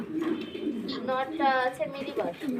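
Pigeons coo softly at a pigeon farm, a few low throaty calls close by, while people talk over them.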